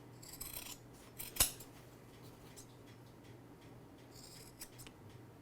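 Scissors clip the corner of a fabric bag lining, giving one sharp, close snip followed by quieter snipping and rustling as the trimming continues.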